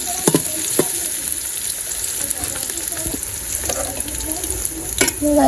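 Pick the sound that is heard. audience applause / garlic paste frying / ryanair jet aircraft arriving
garlic paste frying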